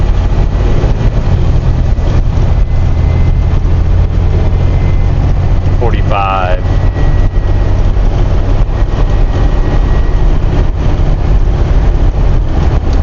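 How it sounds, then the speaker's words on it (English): Inside a 2023 Renegade Verona 36VSB motorhome, the engine roars under full throttle with a loud, steady low rumble and road noise throughout, broken briefly by a short high chirp midway. "So that's full throttle right there."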